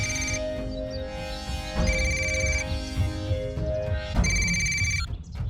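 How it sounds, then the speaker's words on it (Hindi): A phone ringtone chiming in repeated bursts over a low background hum, fairly loud and close. "घंटी जा रही है।"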